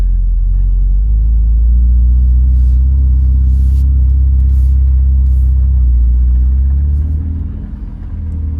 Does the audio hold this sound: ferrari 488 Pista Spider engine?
yes